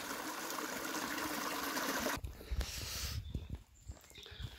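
A small mountain spring stream trickling through a German forest, a continuous watery rush up close that cuts off abruptly, followed by quieter trickling and a few soft thumps like footsteps.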